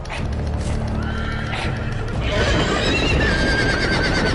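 Horses neigh and whinny loudly in the Game of Thrones video game, several drawn-out calls rising over a steady clip-clop of hooves and background game sound.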